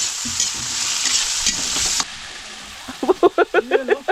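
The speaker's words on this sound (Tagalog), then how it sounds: "Magigisa po tayo ng repolyo." Cabbage sizzles loudly as it is sautéed in a frying pan for about two seconds, then the frying quiets and a voice speaks over the softer sizzle.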